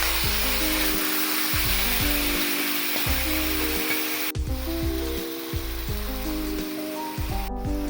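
Minced beef, a kilo of it, hitting a hot pan after ginger and garlic have been sautéed, giving a steady loud sizzle and hiss with no one speaking over it.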